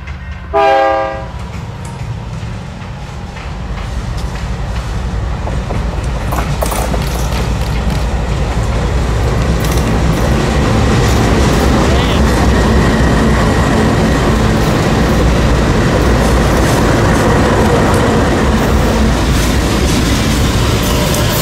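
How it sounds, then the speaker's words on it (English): A train on the Indiana & Ohio Railroad rumbles past close by, a loud continuous roar of wheels and cars building after a brief horn-like tone at the start. "we had to wait for two trains to go by on a Willard"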